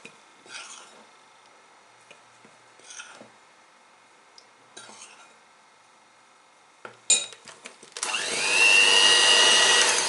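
A carrot, walnut and cinnamon cake batter is stirred in a bowl with a few soft scraping strokes and clinks, then a loud whirring electric mixer starts and runs steadily to the end.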